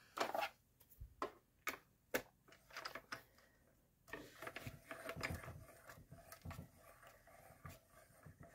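A die-cutting machine cranked during card making, a quiet close series of uneven clicks and ratcheting knocks, spaced at first and then quicker, with no talking.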